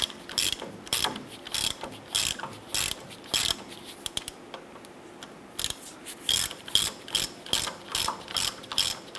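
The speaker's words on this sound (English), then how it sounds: "Tighten down the 3 bolts for the gearbox." Hand ratchet snugging down power steering gearbox bolts on a 1997-2006 Jeep Wrangler, a close, steady run of quick clicking bursts repeating in short strokes with brief pauses between, no talking.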